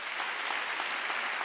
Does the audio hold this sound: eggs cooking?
no